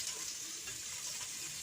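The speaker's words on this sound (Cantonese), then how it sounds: "下雞腿，煎1分鐘。" Chicken legs frying in hot oil with ginger slices in a wok over high heat, a steady dense sizzle filling the short stretch without pause or talk.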